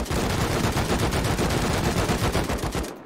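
Automatic gunfire in the video game Rust, a steady rapid burst of close, loud shots lasting nearly three seconds before cutting off.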